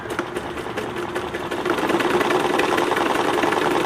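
A Nelco R400-2 sewing machine stitches a buttonhole, its needle running in a fast, even mechanical chatter that grows slightly louder partway through, close up and alone with no talk.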